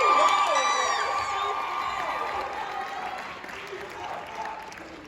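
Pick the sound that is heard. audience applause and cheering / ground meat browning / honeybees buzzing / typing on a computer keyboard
audience applause and cheering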